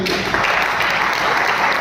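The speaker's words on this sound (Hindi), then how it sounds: "जोरदार तालियां सर के लिए" Seminar attendees at a forex trading session break into loud, dense applause, a continuous crackling roar of many hands that holds steady throughout.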